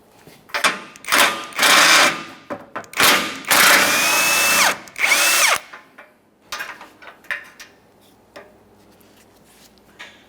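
A power tool buzzes in several close bursts, whining up and stopping, while removing 14mm nuts from the front bumper impact absorber of a 2014-2019 Toyota Corolla, followed by light clicks and handling noises.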